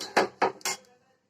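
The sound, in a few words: food being transferred onto a plate, dishes clinking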